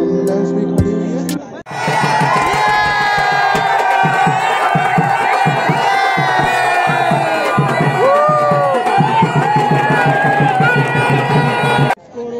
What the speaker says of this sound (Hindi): भीड़ बहुत ज़्यादा लगी हुई है